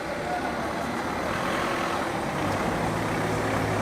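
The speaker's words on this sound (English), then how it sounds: "Now I'm just going to pause slightly while this car does whatever it does." A car passes on a town street, its engine and tyre noise forming a steady, close rumble that swells slightly toward the end.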